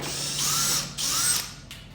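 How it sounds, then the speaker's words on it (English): A power drill bores holes through a Lexan polycarbonate sheet for a race car, two short whining bursts close by with a brief pause between them. "with our drill, we're just going in and making the holes right where we pre-marked the Lexan"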